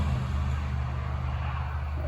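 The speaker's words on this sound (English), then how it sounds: "And if you heard the car drive by" A car passes outside, a low, steady road rumble that stays at a moderate distance for the whole stretch, heard outdoors during a weightlifting session.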